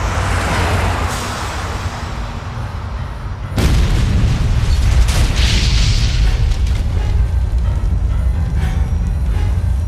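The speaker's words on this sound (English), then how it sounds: "An explosion of unknown origin decimates part of the outside wall and violently shakes the building's entire structure." An explosion at an embassy in the video game Fire Department hits suddenly as a loud deep boom, then a long rumbling roar of debris and shaking carries on beneath a dramatic background score.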